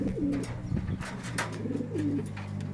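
A pigeon hen in a racing loft coos in low, repeated rolling phrases, with a second cooing bout after a short pause, heard close over a steady background hum.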